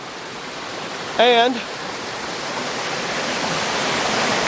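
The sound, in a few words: waterfall heard from the top of the falls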